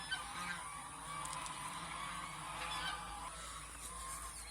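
Goose goslings calling, a steady stream of high, thin peeping honks that carry on without a break. The calls sound moderately close and stay fairly even in loudness, with no talk over them.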